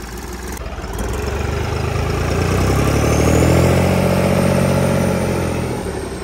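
Tractor engine fitted with a turbo, revving up from a rumble to a loud, sustained roar with rising and falling pitch, close by and running alone without talk.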